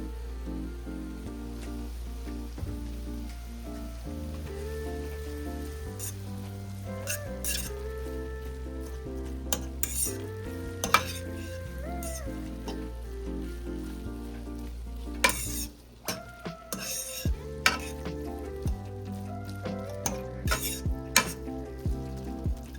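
Jamaican corned beef with garlic powder and black pepper sizzles steadily in a pot while a utensil stirs and clinks against the metal, close and continuous, with no talking.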